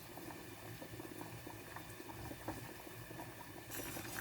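Butter melts in a pan as the base of a sauce for Swedish meatballs. A faint, even bubbling hiss continues throughout, quiet and close, with no voices.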